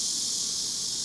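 Cicadas chorusing on a hot summer day, a continuous high, hissing buzz that holds steady and fairly loud with no voices.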